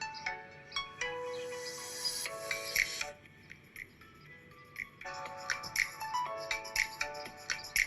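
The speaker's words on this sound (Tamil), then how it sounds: "உண்மை சொல்லனா மோனோ ஸ்பீக்கர் சவுண்ட் குவாலிட்டி ரொம்ப சுமாரா தான் இருக்குங்க" A Realme 11 phone's single mono speaker plays a bright, tinny musical test track with plucked notes and repeated high tones, heard alone at modest loudness.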